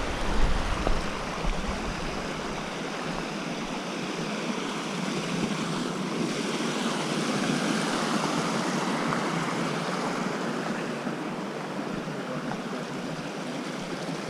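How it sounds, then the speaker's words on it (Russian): The Uskut waterfall near the village of Privetnoye rushes with a steady, broadband roar of falling water, continuous and moderately distant, with no voices. "Водопад Ускутский."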